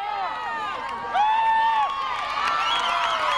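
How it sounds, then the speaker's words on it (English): Family and friends cheer on their side at a girls high school soccer match, a lively crowd of voices with a brief louder swell of shouts and scattered clapping in the middle. "you hear the crowd of family and friends cheering on their Vaqueros team"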